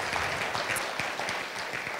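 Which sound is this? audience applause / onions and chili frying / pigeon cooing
audience applause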